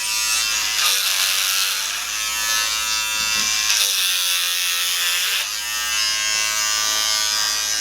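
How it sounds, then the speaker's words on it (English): Electric clippers run steadily and loudly as they shave a head of hair without a guard, with a continuous close buzz that dips slightly as the blades move across the scalp. "I'm cutting my own hair"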